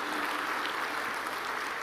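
Audience applause at a government strategic-project anniversary event in Indonesia, a steady wash of clapping from a crowd, moderately distant.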